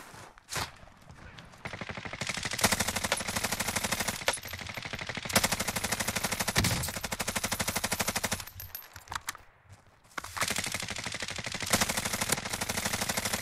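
Rapid automatic gunfire in Call of Duty Warzone, long sustained bursts of shots broken by brief pauses, loud and close, with a few footsteps in the gaps.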